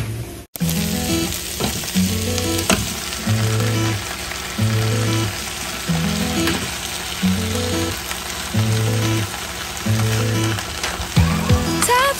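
Shrimp dropped into a pan with sautéed onion and garlic, frying with a steady, close sizzle and periodic bursts of stirring, along with a repeating tonal hum in the background.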